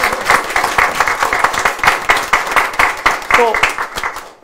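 Audience applause at a press conference for a presidential candidate's policy pledge announcement, a fairly loud burst of clapping lasting several seconds with voices mixed in.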